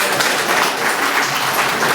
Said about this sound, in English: Teachers, clap for yourselves